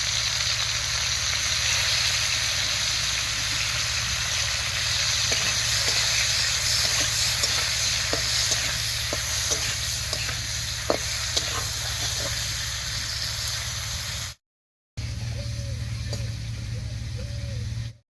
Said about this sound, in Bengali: তেলটা গরম হয়ে গেছে এবারে কেটে ধুয়ে পরিষ্কার করে রাখা শুটকি মাছটা দেব